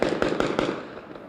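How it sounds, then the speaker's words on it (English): Several sharp pops ring out in quick succession over a loud, steady background roar, rapid and fairly close. "you're hearing active gunfire there"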